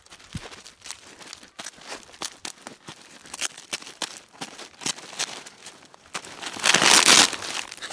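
Paper and plastic mail packaging being sliced and torn open by hand, a run of close crinkling, crunching and tearing rustles with sharp snaps, building to a louder burst of ripping near the end.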